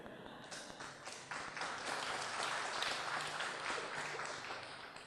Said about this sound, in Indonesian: Itu tepuk tangan orang mau stroke kayak gitu.